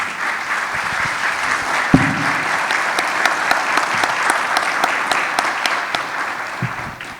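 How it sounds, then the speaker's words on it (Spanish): An audience at a social security congress in Costa Rica applauds steadily, a full round of clapping from a sizeable crowd with a few sharper claps standing out. "les damos de verdad un fuerte aplauso y agradecimiento por estar aquí en este espacio"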